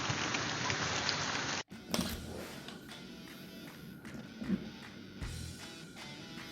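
Steady rain after an 8 km run, a dense hiss falling on surfaces, then after a brief cut a softer patter with scattered taps and thumps nearby.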